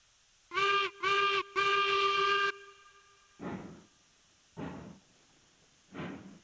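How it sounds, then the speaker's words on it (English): A steam locomotive whistle in the train game Railroads Online sounds three loud, close blasts, two short and one long, followed by three slower puffs of steam exhaust. "Blow that whistle just because I can"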